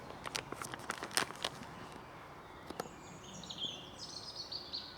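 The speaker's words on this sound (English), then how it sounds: "Let's just listen to those robins." Robins sing on a countryside walk near Robertsbridge in spring, giving faint, scattered high chirps and trills in an open outdoor setting with some crinkling handling noise.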